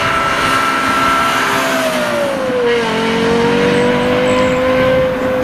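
Close and loud, the V12 of a Lexus LFA holds a sustained high wail, its pitch dipping and then steadying into a smooth, continuous drone.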